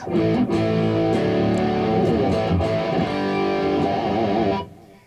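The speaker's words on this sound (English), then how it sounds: "I have an overdrive sound," A gritty electric guitar through a Free The Tone GIGS BOSON overdrive pedal rings out in sustained chords and notes, loud and close, then cuts off near the end.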